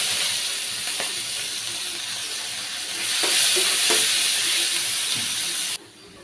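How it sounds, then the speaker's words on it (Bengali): Chopped onions sizzle in hot mustard oil with bay leaf, dried red chili and cumin, a loud steady hiss that swells midway, with a few soft stirring knocks, then cuts off abruptly near the end. "আমি যে পেঁয়াজ কুচিগুলো দিয়ে দিই।"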